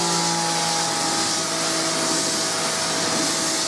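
Karcher K5.740 X-Series electric pressure washer rinsing, a loud steady broadband hiss of high-pressure spray with a constant motor hum beneath, running unbroken and close throughout.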